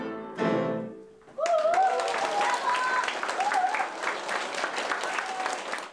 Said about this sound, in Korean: 세계적인 거장의 빼어난 연주에 아낌없는 박수로 호응합니다.